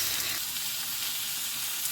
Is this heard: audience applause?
no